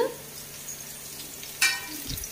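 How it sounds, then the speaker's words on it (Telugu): Onions frying in a pan for chicken pulao give a soft, steady sizzle, with one sharp stir or scrape of a utensil partway through and a low thump near the end. "ఆనియన్స్ కొంచెం మంచిగా ఫ్రై అయిన తర్వాత"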